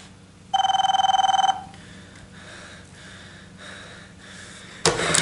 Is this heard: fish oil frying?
no